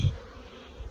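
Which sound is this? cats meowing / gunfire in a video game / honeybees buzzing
honeybees buzzing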